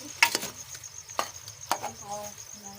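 Macaroni being stirred with a spoon in a pan, giving a few sharp scraping clinks and taps against the metal over a quiet background hum, close and fairly loud.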